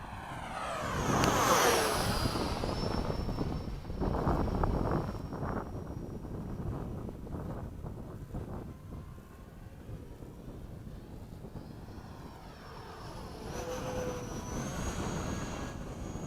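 A Freewing 80mm F-5 RC jet climbing out after takeoff at an Oakdale flying field, its ducted-fan whine rising and sweeping past under steady wind rumble, louder at first and fading before swelling again.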